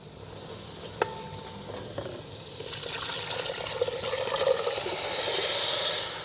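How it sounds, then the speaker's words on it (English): Coconut milk pours into a hot pot of Jamaican-style stew seasoned with paprika, a soft liquid rush swelling into a growing sizzle and bubbling that gets louder toward the end, no talking. "Now, I'm gonna add my coconut milk."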